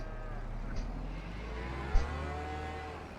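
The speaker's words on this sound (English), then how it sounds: "You can hear them mooing already." Cattle mooing inside a cold livestock trailer, low drawn-out calls rising over a steady rumbling background, with one louder, closer moo standing out partway through.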